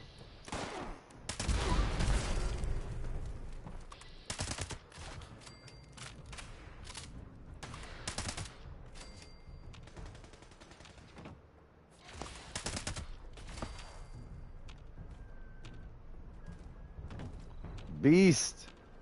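Bursts of gunfire in Fallout 76 crack out repeatedly, some rapid and clustered, others single shots, loud and near at first and then thinner, with a voice speaking briefly among them.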